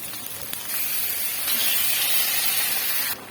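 Marinated chicken pieces go into hot frying spice paste with a loud, steady sizzling hiss that holds for a few seconds close up before dropping away.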